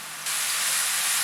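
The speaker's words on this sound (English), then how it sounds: "Now I am going to drop in my garlic paste" Garlic paste hits hot oil and ghee in a kadai, bursting into a loud, sudden, steady hiss of sizzling that holds without a break.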